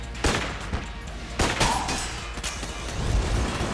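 A buzzsaw gun fires in Enter the Gungeon on Nintendo Switch, giving a few sharp bursts over a fairly quiet, rumbling background of game sound effects.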